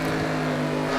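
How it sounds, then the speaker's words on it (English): Race car engine in a racing video game at Darlington, held at steady high throttle: a loud, continuous droning whine with a constant pitch and no talk over it. "Listen to the throttle, guys."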